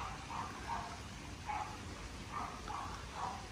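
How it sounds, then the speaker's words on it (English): A dog barks in the distance across a quiet resort garden in Bali, giving about half a dozen faint, spaced barks over a low background hiss. "I've never heard that dog before."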